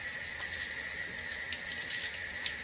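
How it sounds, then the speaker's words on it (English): Steady rush of water pouring from a garden hose, a continuous hiss at moderate level with no voices. "Now what I'm going to do is use this garden hose"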